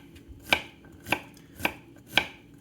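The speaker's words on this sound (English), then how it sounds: "So I'm just gonna cut this small, like we're gonna cook it down a lot." Knife chopping vegetables small on a cutting board for a shepherd's pie, four evenly spaced crisp thuds about half a second apart, close and clear with no speech.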